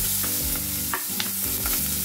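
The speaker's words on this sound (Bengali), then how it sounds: "এই তেলের মধ্যেই আমি কিন্তু এই পেঁয়াজগুলো ছেড়ে দিচ্ছি।" Onions dropped into plenty of hot oil for Bengali spicy chicken bahari sizzle and crackle steadily, with stirring scrapes and clinks of a spoon against the pan throughout, close and continuous.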